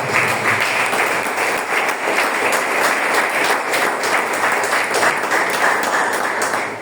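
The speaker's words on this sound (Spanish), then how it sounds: "Dale palmas" Applause from a church congregation during a sermon, many hands clapping in a loud, steady, close patter that holds for several seconds before easing slightly at the end.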